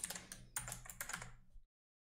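Computer keyboard keys tapped in quick bursts while an email account name and password are entered, three clusters of clicks followed by silence.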